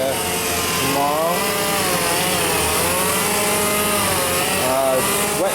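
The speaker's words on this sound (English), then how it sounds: "Wet sanding, it's a jitterbug with 600 on it" A jitterbug orbital sander fitted with 600-grit paper wet sanding the broad flat body panels of a 1967 Chevelle, a loud continuous buzzing whine whose pitch wavers and sweeps as the tool moves across the surface.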